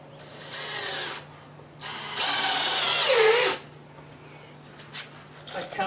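A power drill driving screws into a wooden brace while building a silkscreen shop, heard as two close, whirring bursts, the second longer and louder, with brief talk afterward.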